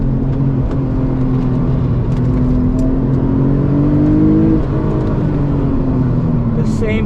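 A turbocharged Porsche 996 GT2 engine pulls hard under acceleration, a loud steady drone rising in pitch through the gear, heard from inside the car with a voice speaking over it.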